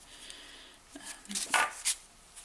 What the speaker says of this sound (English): That's just lazy, lazy shuffling.